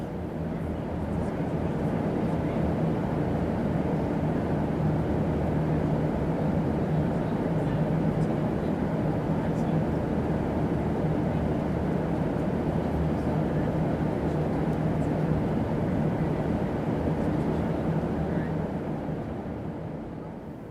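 A steady, loud engine drone fills an airplane cabin in flight, a constant low roar that never changes for the whole stretch.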